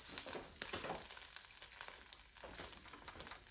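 Seasoned Salisbury steak with onions is stirred inside a Power XL cooker, giving a steady close sizzle broken by repeated scraping and clacking strokes.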